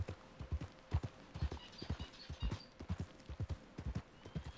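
Horse hooves while riding in the video game Red Dead Redemption 2: a steady, rhythmic clip-clop of trotting hoofbeats, close and clear, with a faint whinny-like tone in the background.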